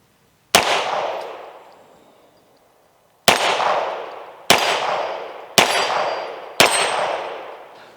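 Five loud, sharp pistol shots from a Beretta 92XI Gara ring off a small steel target, each crack followed by a bright metallic clang that rings out and decays. The first stands alone, then four come in quicker succession.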